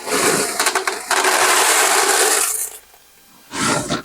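Clay pebbles poured into the base of a terrarium, a loud close rattling cascade that pours for about two and a half seconds, pauses, then comes in again as a shorter burst.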